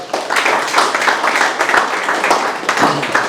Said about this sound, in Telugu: for these people give a big hand to all